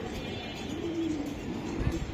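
A racing pigeon coos softly in a loft of club racer birds, a low rolling call near the end over a steady background hum, with faint talk nearby.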